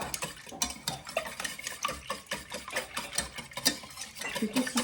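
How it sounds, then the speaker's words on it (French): Lemon meringue tart ingredients are stirred together in a bowl, a fast, irregular run of close scraping and clinking strokes that continues for several seconds with no talking. "Et on va venir les mélanger."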